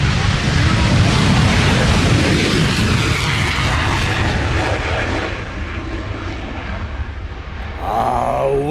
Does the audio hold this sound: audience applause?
no